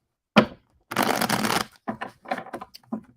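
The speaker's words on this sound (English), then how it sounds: "I just want to go ahead and shuffle that right out" A deck of cards is shuffled in several quick rustling bursts, first a short riffle and then a longer run followed by choppy shorter ones, close and fairly loud.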